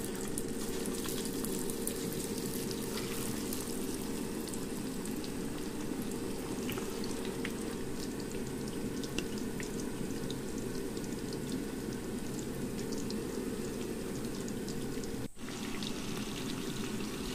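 Chicken pakoda with cashews frying in hot oil, giving a steady, dense crackling sizzle that runs unbroken throughout with no talk.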